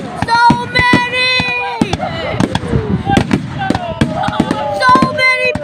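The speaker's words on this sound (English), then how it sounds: "There's so many big shell fireworks!" Big shell fireworks burst in rapid succession at a display in Pounawea, sharp booms and crackles overlapping with whistling trails, loud and close, while excited voices exclaim throughout.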